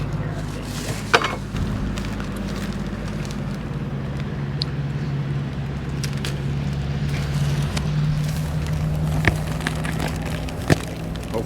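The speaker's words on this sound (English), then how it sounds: "Hopefully that's not picking up all that fan" Steady fan noise running at a campsite, a constant low hum with a droning tone throughout, broken by a few faint clicks and knocks nearby.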